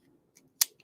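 A single sharp, close crinkling snap of a trading card pack being torn open, with a couple of faint rustles before and after in an otherwise quiet moment.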